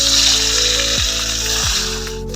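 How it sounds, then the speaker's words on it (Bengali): Kokila fish hiss in hot mustard oil in a kadai, a bright, continuous sizzle close up, layered with a loud, steady tonal hum that twice slides downward in pitch. "মাছগুলো এবার ছেড়ে দিলাম"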